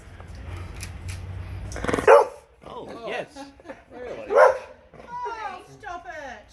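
Several guide dogs bark and yip in short bursts in an outdoor play area, some close and loud, with people talking in between and a low rumble early on.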